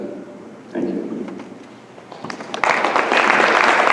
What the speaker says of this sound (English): if we can hold our applause till after all have addressed the question, we should